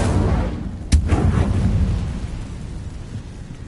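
Incendio fire spell cast in Hogwarts Legacy: one sudden sharp crack-like burst, followed by a low booming, rumbling tail that slowly fades.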